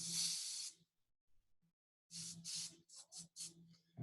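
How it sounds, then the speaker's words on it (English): Aerosol deodorant sprayed in a long, loud hiss, then a pause before several shorter hissing bursts in quick succession, close by. "This is an aerosol."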